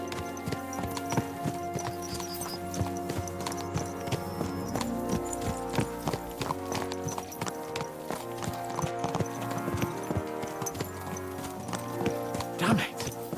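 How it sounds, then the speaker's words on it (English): Horses' hooves clop in a steady, busy rhythm through a medieval countryside in Kingdom Come Deliverance II, with occasional whinnies over continuous game music and ambience. "Let's really spur these horses on, eh?"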